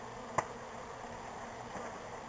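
Honey bees buzzing steadily around a hive being removed from a house, a continuous quiet drone with one brief knock near the start.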